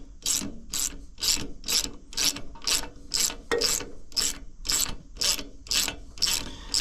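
A ratchet wrench clicks in about a dozen regular, evenly spaced strokes while loosening a tight spark plug on a Craftsman ride mower engine, close and crisp with no talk.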